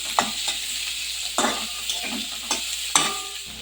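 Chopped onion is stirred into hot oil in a pan, with a soft sizzle under repeated scraping strokes of a spoon against the pan at a steady, uneven rhythm, close and fairly quiet, no voices.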